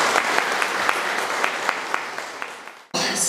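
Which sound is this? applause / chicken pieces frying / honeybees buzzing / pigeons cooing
applause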